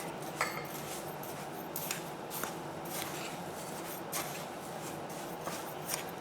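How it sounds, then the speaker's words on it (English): Oats and dry cookie ingredients mixed in a bowl for oatmeal chocolate chip cookies, a soft, close scraping and rubbing with repeated spoon clinks against the bowl, fairly quiet. "You'll just want to mix all of this together really well until it's well incorporated."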